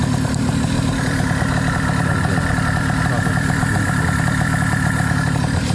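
A Tomos moped engine idles steadily just after starting, a continuous close putter with a low rumble that holds even throughout with no revving.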